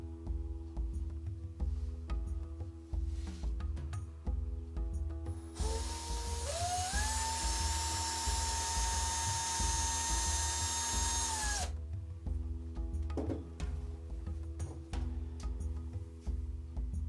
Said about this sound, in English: I now have a hole drilled directly through the center of the bead.